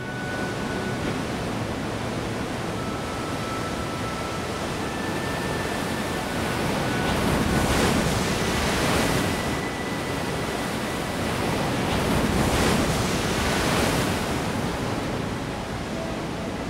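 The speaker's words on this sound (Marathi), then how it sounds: "त्याच्यावर समुद्राच्या लाटा अशक्य ताकदीने फुटत होत्या आणि पाण्याचा जोरदार फवारा हवेत उडत होता" Steady broadband roar of surf with two heavier surges of waves crashing on rocks on the Konkan coast, loud and close, no voices.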